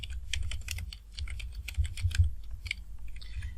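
A computer keyboard clatters with quick, close taps and short irregular bursts as a username and password are entered, over a low background hum.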